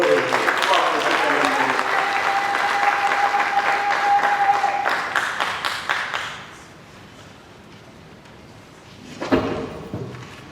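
Applause fills a provincial assembly chamber in Lualaba, DR Congo, as a dense crowd claps steadily for about six seconds, then fades to quiet murmur before a brief final burst near the end.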